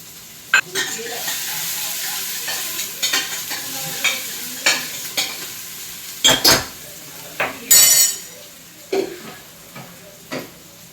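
Food sizzles and fries in a pan in a home kitchen while a utensil stirs it, with scraping and clinking metal strokes at irregular intervals over a steady crackle. A voice speaks faintly now and then.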